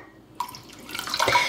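Cooled boiled water from a tea kettle is poured into a third-cup measure, starting with a sudden splash and building into a steady, close trickle that grows slightly louder.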